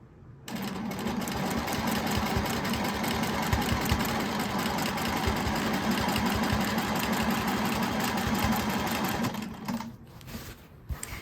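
Sewing machine stitching pieced scrap quilt fabric, a steady, fast mechanical whir running continuously for about nine seconds before stopping, close and alone with no talk.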